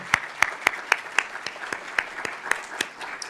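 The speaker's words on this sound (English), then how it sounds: "can we get one more round of applause for all our award winners and honorees?" Applause at an awards and portraits ceremony for a medical school reunion symposium: a modest round of sharp, fairly regular claps, near and moderately loud, lasting a few seconds.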